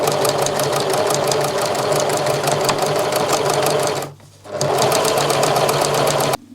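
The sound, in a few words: sewing machine stitching a hem on a sun dress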